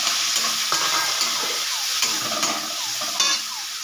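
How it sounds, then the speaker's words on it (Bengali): Prawns frying in hot oil in a wok, a loud steady sizzle with occasional stirring scrapes, close up and continuous, no voices. "তেল গরম হয়ে গেছে, এবার আমি চিংড়িগুলো দিয়ে একটু ভেজে নেব।"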